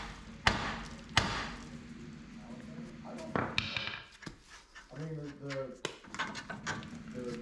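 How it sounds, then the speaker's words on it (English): Heavy hammer strikes knocking a steering knuckle off the tie rod on a Chevy truck front suspension, two sharp metallic bangs then another, with a person talking and shop clatter around them. "We're going to knock this knuckle out for the tie rod."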